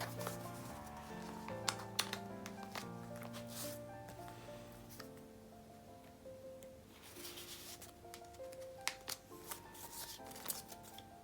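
K-pop photocards being sorted and slid into a binder: soft rustling, flicking and papery handling with scattered small taps and plastic sleeve sounds under quiet background music.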